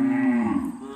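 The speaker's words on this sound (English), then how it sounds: "Cows talking away over there." Cattle just back from grazing give a loud, close, drawn-out moo that slides downward and lasts about a second.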